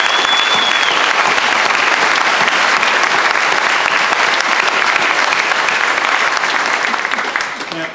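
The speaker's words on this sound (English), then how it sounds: "I think we need to give Jeremy and Shelley a large round of applause." Loud, sustained applause from the audience at a county community meeting, dense continuous clapping filling the room, a brief whistle near the start.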